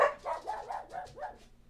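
Dogs bark in a quick run of about five sharp, close barks packed into under two seconds, loud at first and then tapering off, with no talking.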